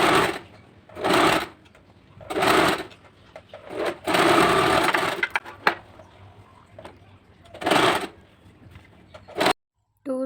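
A sewing machine runs in several loud bursts of rapid stitching on a ladies' frock, stopping and starting between seams, close and clear.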